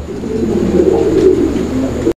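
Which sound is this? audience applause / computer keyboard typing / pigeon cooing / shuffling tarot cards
pigeon cooing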